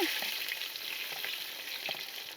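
Onions and spices frying in oil for an Andhra-style fish dish, giving a soft, continuous sizzle with a few faint stirring ticks, heard close and alone.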